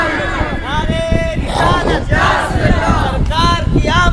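A large crowd at a religious gathering shouts a loud chanted response to the Nara-e-Takbir call, voices rising in repeated surging bursts, close and dense with many people yelling together.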